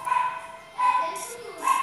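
A dog barks nearby in three sharp, yappy bursts spaced across two seconds, with people's voices audible in the background noise.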